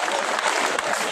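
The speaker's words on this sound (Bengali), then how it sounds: "করতালি তাদের জন্য।" An audience at a university science festival prize announcement applauds, a dense, loud, steady clapping from many hands that fills the moment.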